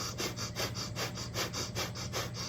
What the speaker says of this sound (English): breath of fire, which is a really rapid navel breathing